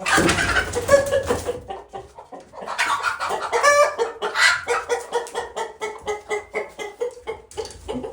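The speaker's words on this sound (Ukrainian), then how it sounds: "О, ці кури." Several chickens cluck in short, repeated bursts, close by, with a rhythmic run of clucks toward the end.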